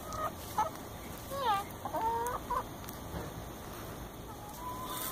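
Chickens cluck and squawk near a fence as feed is tossed to them, giving several short rising and falling calls over the first few seconds, then quieter clucks over steady outdoor background noise.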